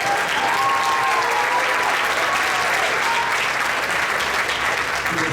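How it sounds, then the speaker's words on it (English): A crowd at a sixth-grade band concert claps steadily for a standing trombone player, a full, even roar of hands with a faint sliding brass note early on beneath it. "Round of applause."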